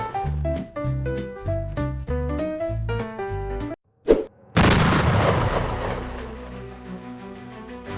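A big firework going off underwater sends out a loud, dense shockwave boom. It cuts in sharply after a brief silence and rumbles on as a long, broad roar, preceded by a bright melodic tune.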